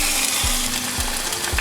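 Food frying in pans over medium-high heat at a beach campsite, with a loud, continuous sizzle and crackle close up and a few low thumps along the way.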